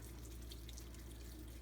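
Tap water running into a kitchen sink while hands are washed, a continuous, even splashing hiss at low level with no talking.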